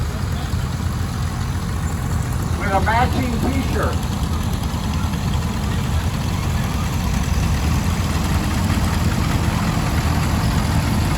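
A 1949 Cle-Trac HG68 crawler tractor engine idles steadily and loudly at a classic tractor show, a constant low rumble throughout with a brief voice speaking over it early on.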